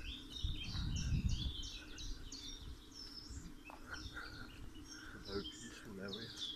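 Birds singing around a grassy path with freshly trimmed trees at a castle entrance, a busy overlapping chorus of chirps and trills, fairly near, over soft outdoor background and a brief low thump early on.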